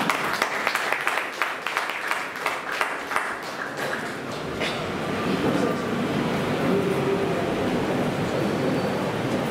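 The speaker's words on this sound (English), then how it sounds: "request you all to greet him with a round of applause" A round of applause from the audience welcoming a guest at a club's third installation ceremony. It opens with scattered, distinct claps and swells into steady, dense clapping that fills the rest of the room.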